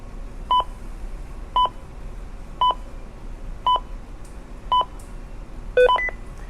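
A Ritron JMX portable two-way radio gives a series of six short electronic beeps, evenly spaced about a second apart, the last one a quick double tone, over faint background hiss.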